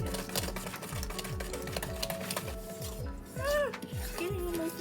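Peanut butter chocolate chip cookie dough with vanilla extract and egg being stirred by hand in a bowl, a steady rhythmic series of scraping strokes and clinks, close and moderately loud, with brief voice-like squeaks.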